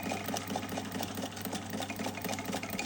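A sewing machine runs steadily, stitching through the plastic pocket of a handmade junk journal storage folder, a continuous mid-pitched motor whir with faint rhythmic needle pulses and no talking.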